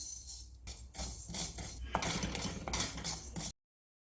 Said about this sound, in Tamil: இதே இதில் இந்த வெந்தயத்தை வறுத்து எடுத்துக்கிறேன்.